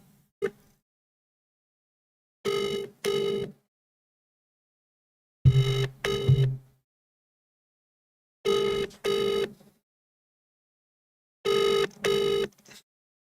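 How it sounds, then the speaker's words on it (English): An outgoing telephone call rings four times, each a double burst of ringback tone, evenly spaced about three seconds apart with silence between, clear and alone. "I have the phone number here on my phone. Let's pause the music for a moment and let's see if we can get through to Peter"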